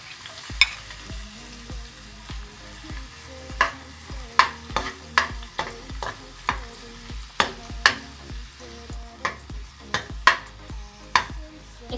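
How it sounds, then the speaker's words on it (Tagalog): Chopped garlic fries in oil in a pan for Lucky Me pansit canton with oyster sauce, a steady sizzle punctuated by regular sharp scrapes and taps of stirring against the pan. "Ilalagay na natin ang ating sibuyas at bawang. Pero unahin natin yung bawang."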